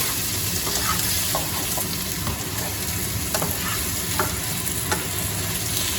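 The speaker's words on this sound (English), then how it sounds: "Now start stirring and let it cook." Busy, even sizzle of chicken frying, with soft scraping and clinking as it is stirred around the pan, continuous and close.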